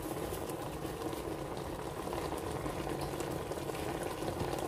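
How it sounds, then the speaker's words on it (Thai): Minced meat with taco seasoning is stirred in a pan, giving a continuous bubbling, simmering wash of sound with faint scraping, steady and close. "คนให้เข้ากันค่ะ"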